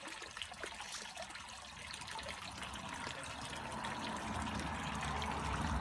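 A small pond's return water trickles and splashes back into the garden pond after running through pampas grass, a steady close flow that grows slightly louder and fuller toward the end, with no talking.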